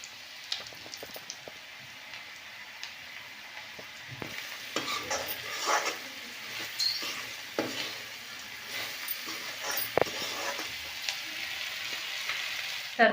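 Bitter gourd and chickpeas fry and get stirred in a pan, with a steady sizzle throughout and intermittent scraping and clinking of the spoon, growing busier and louder toward the end.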